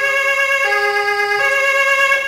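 German ambulance siren wailing loudly in steady alternating two-tone blasts, close and continuous with no voices over it.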